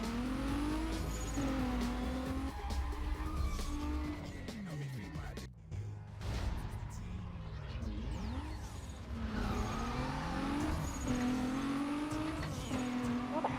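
A Mitsubishi Lancer Evo in a racing video game revs steadily through rising and falling gear changes, with tire squeal and skidding woven through a continuous loud engine drone and a brief dip midway.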